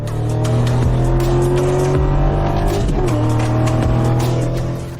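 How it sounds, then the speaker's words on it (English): An Audi racing in a street run against an old BMW E30 Touring, a loud, steady engine drone with shifting pitch, heard close from inside a car with no talk. "Audi is racing."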